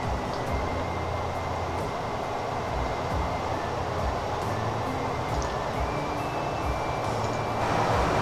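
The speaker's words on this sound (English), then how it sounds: "Oh, look at the food train just sort of creeping ahead." Train in the Transport Fever video game, a food train creeping slowly along uneven, bumpy track; a steady low rumble and rolling noise continues throughout, with faint higher tones drifting over it.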